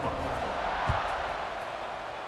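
Stadium crowd noise from a college or pro football video game, a steady broad roar of cheering spectators holding at one level, with a brief low thump near the start and no speech over it.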